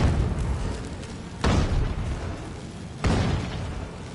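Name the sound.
explosions in a video game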